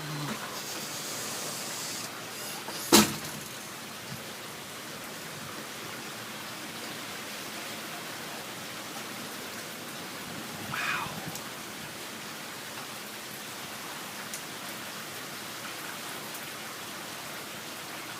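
Extremely strong wind roaring steadily outdoors as a broad, continuous hiss with rain in it, with a couple of brief louder gusts or knocks.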